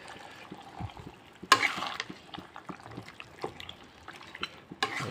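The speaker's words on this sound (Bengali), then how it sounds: "মশলা এবং মাংসটা একসাথে মিক্স করবেন" Chicken pieces and spices being stirred together in a pan, with soft, irregular scraping and clinks under a faint sizzle, and one sharper clatter near the start.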